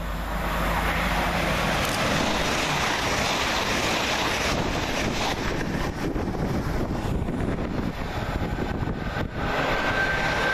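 Class 802 train 802016, running from Plymouth to London Paddington, passes through Twyford station as a loud, continuous rushing roar with heavy wind buffeting, sustained across the whole passage.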